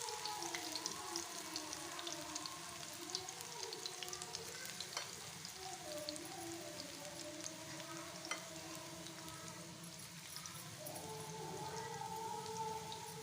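Shredded cabbage pakoras fry in oil over a low flame, giving a steady, dense crackling sizzle with fine popping bubbles that holds throughout at a moderate, close level.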